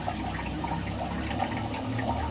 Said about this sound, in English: That's constantly trickling fresh water in, and then it goes to the overflow